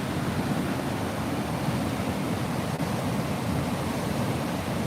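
Water rushes strongly through Krasiao Dam in Suphan Buri, Thailand, making an even, loud roar that holds without pause and with no speech.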